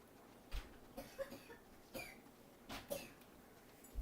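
A few short, faint coughs scattered across a quiet room, spaced irregularly with soft breathy pauses between them.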